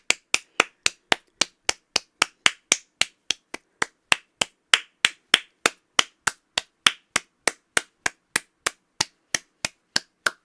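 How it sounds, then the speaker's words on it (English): A single pair of hands claps in a steady, even rhythm, about three claps per second, close and crisp for the whole stretch with no voices. "Let's all clap. Come on, clap."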